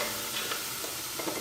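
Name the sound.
carrot frying in butter in a pot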